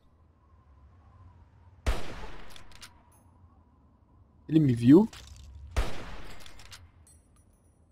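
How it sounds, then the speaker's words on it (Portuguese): Two sharp gunshots, a few seconds apart, fired at a raider in the video game Fallout 3. Someone talks briefly between the shots. "Eu errei o tiro, claro."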